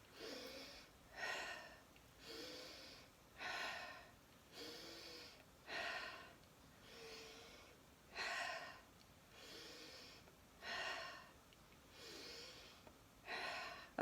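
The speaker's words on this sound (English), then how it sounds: "and 6 more breaths." Slow, deep breaths taken during a daily energy exercise routine, each inhale and exhale a soft airy rush, repeating in a steady rhythm about every second and a half, close and fairly quiet with no talk.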